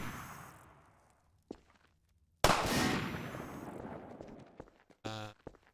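Sniper gunfire in a Half-Life 2: Episode Two single-player mod: one loud, booming shot with a long fading tail, set between a brief earlier crack and a short harsh burst near the end.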